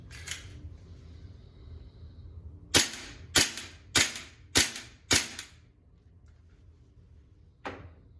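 Five sharp, evenly spaced clicks from a training pistol fitted with a CoolFire trainer, fired at a steady cadence of about one per second, loud and close, with a quieter click before and after the string.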